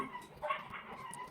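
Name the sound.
dogs barking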